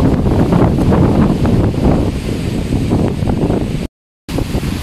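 Strong typhoon wind in Urdaneta, Pangasinan, roaring and buffeting a nearby microphone in dense, loud gusts, cutting out briefly before the roar returns, with no talk.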